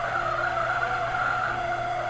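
A bus brakes on the road with tires skidding, a sustained tonal squeal with steady engine drone underneath, lasting about two seconds at moderate loudness.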